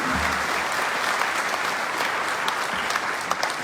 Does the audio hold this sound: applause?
yes